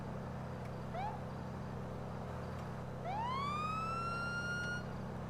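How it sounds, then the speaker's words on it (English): A police siren in the GTA-based roleplay game OCRP wails from a patrol car: a brief rising whoop, then a long steady rising wail, loud over a constant low engine drone. "You hear a siren going on that one."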